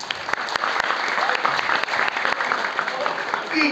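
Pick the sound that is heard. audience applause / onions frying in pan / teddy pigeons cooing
audience applause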